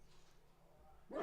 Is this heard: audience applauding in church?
no